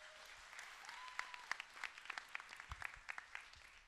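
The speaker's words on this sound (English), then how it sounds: "Give them a round of applause, please." Audience applause for a group of pitching startups at a startup arena competition, a moderate, steady spatter of hands with scattered louder claps, held at a distance for several seconds.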